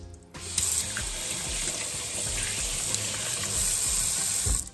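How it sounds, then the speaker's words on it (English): Tap water runs steadily into a sink during handwashing, a loud, continuous splashing gush that starts abruptly, holds for several seconds with slight shifts as hands move under the stream, then cuts off. "I'm gonna go ahead and wash my hands."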